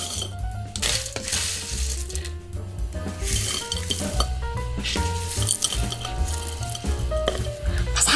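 Crispy roasted seasoned laver flakes scraped and stirred in a frying pan, a dense dry rustling crackle with sizzle and metallic pan clinks, close and continuous over light background music.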